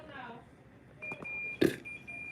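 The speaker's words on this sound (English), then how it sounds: "that thing's still beeping" An electronic device emits a thin, steady high-pitched beep tone that starts partway through and holds to the end, faint in the background while a person speaks nearby.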